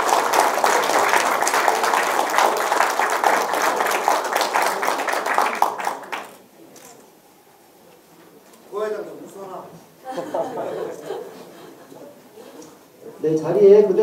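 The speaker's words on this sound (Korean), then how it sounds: "자, 교환할 때 크게 박수 부탁드리도록 하겠습니다." Applause at a signing ceremony where two association chairmen exchange a cooperation agreement, a sustained crowd clapping for about six seconds, then fading into a quieter room with a few voices and rustling.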